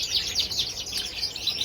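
Show birds, a pair of bred parent birds kept in a bird room, chirp and tweet in quick, bright repeated calls that run steadily throughout, close and clear with no talking.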